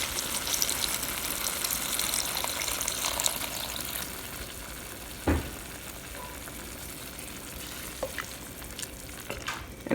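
Water pours into a chickpea potato curry in a Le Creuset 7.5-quart soup pot, a loud gushing splash hissing over the simmering pot, then settling into softer sizzling with an occasional clunk.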